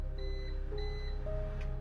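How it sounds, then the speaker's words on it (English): A microwave oven beeps twice in a kitchen, two short electronic tones over a steady background hum, with a fainter third tone trailing after. "Catherine eventually heard the beep of the microwave"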